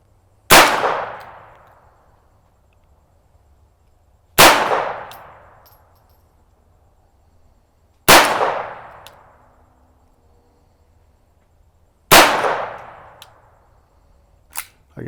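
Four sharp rifle reports from a .22 semi-automatic, evenly spaced about four seconds apart, each a loud crack with a short decaying ring, plus a faint click near the end.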